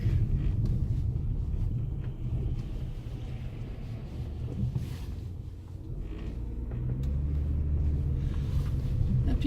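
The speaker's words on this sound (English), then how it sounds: "Truck." A truck passing by on a road in the California hills, a steady low rumble that swells and fades over several seconds with some wind noise, no talking.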